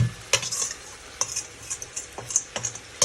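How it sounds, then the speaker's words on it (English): A spoon scraping and clinking around a pot to stir curried prawn seasoning, a series of sharp metallic taps and scrapes over a faint sizzle, close and alone. "Just use that spoon to stir it, just to get the seasoning out of the pot."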